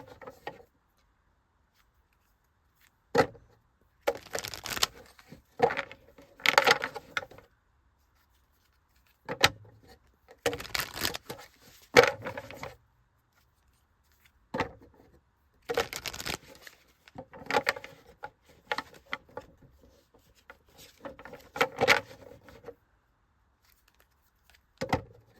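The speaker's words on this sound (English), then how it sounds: "sorry if that was too much shuffling" Tarot cards are shuffled in bursts of crisp riffling and flicking, close and fairly loud, separated by quiet pauses across the stretch.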